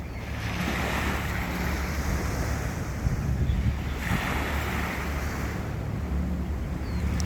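Steady wash of surf rolling onto the back shoreline of Ma Wan, with waves swelling every few seconds under constant wind rumble; no voices.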